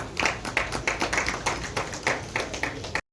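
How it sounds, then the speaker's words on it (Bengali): An audience at a public event with the mayor in Agartala, Tripura, claps in an even rhythmic beat of about four claps per second, fairly close and steady for three seconds before stopping abruptly. "জোরে করতালি"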